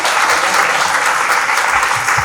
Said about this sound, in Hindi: जसपाल जी और तेजेंद्र जी के लिए जोता ताली होना चाहिए